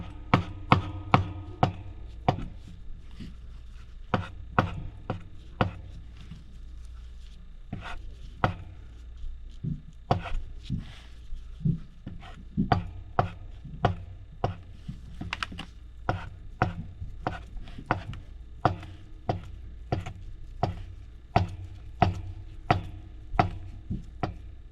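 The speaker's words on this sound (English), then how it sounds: "I'm going to start by cutting up some of this crab" A knife chops crab meat on a cutting board in a kitchen, sharp knocks coming close and clear in irregular bursts and quick runs. No one speaks over the chopping.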